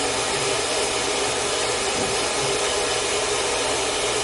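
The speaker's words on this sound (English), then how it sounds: "I have a nice cool shot on my blow dryer. So I'm gonna cool shot it for a second." A blow dryer on its cool shot setting gives a steady, loud, full-band rushing whoosh held close by without a break, with no voices.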